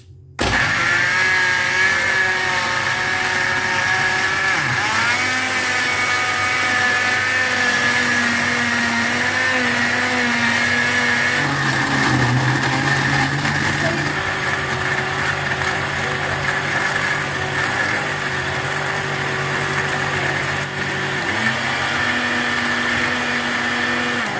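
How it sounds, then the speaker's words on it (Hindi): A kitchen blender crushes a jar of ice for a mint margarita, a loud steady motor whine with shifting pitch as the ice breaks down, running continuously for over twenty seconds. "अब इसको ब्लेंड कर लेंगे बहुत अच्छे से"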